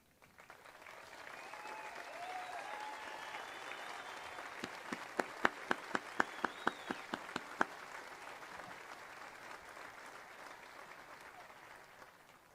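Distant audience applause at a high school graduation ceremony builds and holds steady, with a few sharper individual claps and faint whoops standing out midway before it fades.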